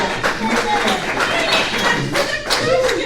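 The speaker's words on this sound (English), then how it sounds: "Why are you all clapping?" Audience clapping breaks out at a township council meeting, a dense spread of hand claps continuing steadily under an indoor room echo, with voices mixed in.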